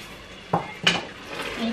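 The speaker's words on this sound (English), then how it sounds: "I'm just gonna stir everything together." Nigerian beef stew is stirred in a pot, producing a couple of distinct metallic clinks and scrapes of a utensil against the pot over a quiet background.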